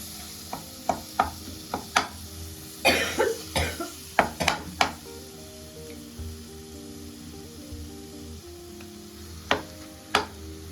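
Pieces of brain dropped into hot oil in a pan for Tamil-style brain bajji, with a steady background sizzle and a run of sharp spits and pops clustered early, then sparse crackles toward the end.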